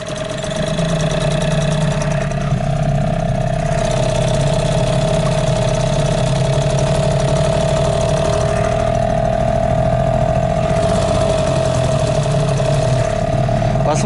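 A Hidea 5 outboard motor runs steadily on a Flagman 380 inflatable boat, a loud, close, unbroken mid-pitched drone with a constant tone and no pauses.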